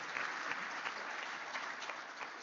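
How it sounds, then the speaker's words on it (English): A crowd applauding steadily, a dense patter of many hands clapping at an even level for a couple of seconds. "another round of applause to extend thanks for a thought-provoking discussion"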